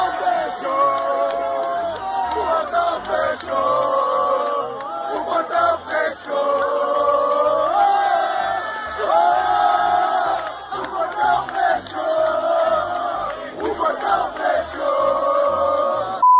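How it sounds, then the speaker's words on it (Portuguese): A crowd gathered at an exam gate for latecomers to Brazil's Enem 2018 cheers and chants loudly in rhythmic bursts, voices rising and falling over the whole stretch. "criaram até uma torcida para o portão"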